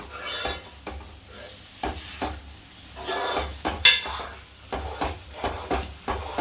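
A spoon scrapes and stirs through thick jackfruit jam in a pan, repeated rhythmic strokes with occasional metallic knocks.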